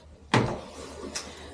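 A cabinet door in a home kitchen, its vinyl wrap peeling, closes with one solid knock followed by a softer tap about a second later, close and alone.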